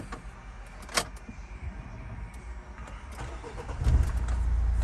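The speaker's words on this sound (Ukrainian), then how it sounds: "Заводиться автомобіль." A 2011 Renault Espace engine cranks and catches near the end, settling into a steady low rumble after a few quiet clicks and shuffles inside the vehicle.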